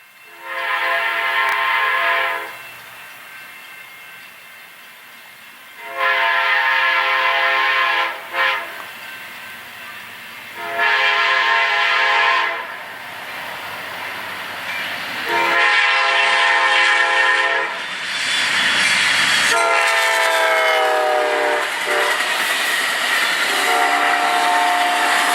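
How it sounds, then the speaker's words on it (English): Amtrak train 21, the Eagle, runs southbound through Joshua, Texas, with repeated loud chord horn blasts over a rumble of passing railcars, followed by the steady roar and clatter of the train going by close. "Amtrak train number 21, the Eagle, Joshua, Texas, Tuesday, February the 15th, 2011,"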